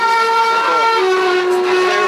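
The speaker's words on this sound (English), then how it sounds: "Galata Pera, the world's second oldest subway." Old subway train at Galata Pera station in Istanbul, sounding a loud sustained tonal horn or whistle with steady rumbling rail noise beneath, close and continuous throughout.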